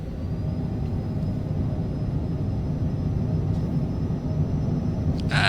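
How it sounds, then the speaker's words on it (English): A small airplane's engine roars at full power during a touch-and-go takeoff with flaps at 15, a dense, loud, steady rumble from inside the cabin. "We're already taking off."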